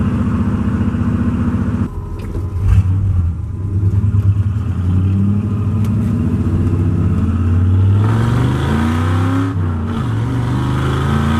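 A Ford F-100 pickup truck with a five-speed manual swap revs hard under acceleration, its engine note rising, dropping briefly at a gear change, then climbing again, loud and close inside the cab.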